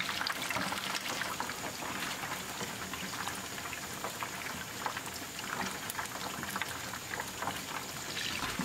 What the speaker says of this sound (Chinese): 继续用勺子把热油往鱼身上浇。